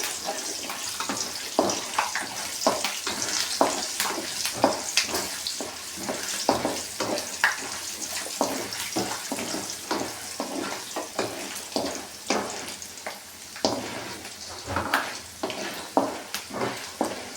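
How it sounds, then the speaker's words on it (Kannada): Peanuts roast in a pan for masala chitranna, crackling and sizzling steadily and close, with frequent sharp pops and stirring scrapes throughout. "ಕಡಲೆ ಬೀಜ ಎಲ್ಲ ಚೆನ್ನಾಗಿ ರೋಸ್ಟ್ ಆಗಬೇಕು ನೋಡಿ ಇವಾಗ ರೋಸ್ಟ್ ಆಗಿದೆ"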